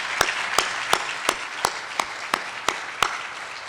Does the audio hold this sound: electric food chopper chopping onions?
no